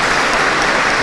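Dense crowd applause at the funeral of Luciano De Crescenzo in Naples as the coffin enters, loud and continuous throughout.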